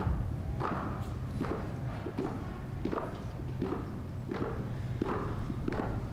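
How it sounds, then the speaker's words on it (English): Footsteps descending stairs from the Capitol crypt during a presidential inauguration, a steady series of regular, moderately close thuds over a constant background hum. "We can hear the footsteps of VP-elect Harris coming down the stairs from the crypt."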